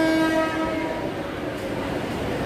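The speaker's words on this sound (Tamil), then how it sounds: "பாண்டிச்சேரி எக்ஸ்பிரஸோட ஹார்ன் தான் நான் நினைக்கிறேன்." A Pondicherry Express train sounds its horn at the start, a sustained tone that fades into the steady rumble of rolling rail cars heard from nearby.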